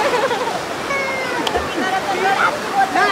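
Water rushes steadily at the Hemnagar village waterfall in Alibag, a loud, constant roar with people talking over it.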